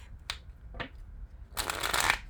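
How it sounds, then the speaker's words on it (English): Tarot cards being shuffled by hand, with two quick flicks followed by a longer riffling burst, close and fairly quiet, with no talk over it. "That was a weird shuffle."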